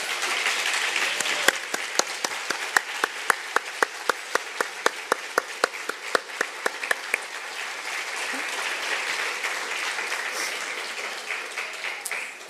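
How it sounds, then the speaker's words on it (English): A standing audience at a commemorative theatrical presentation in a community college venue applauds the cast in a sustained wash of clapping. A sharp rhythmic clap stands out near the front, then fades while the crowd keeps applauding. "could you please stand and give a collective applause to Miss Stout and the cast"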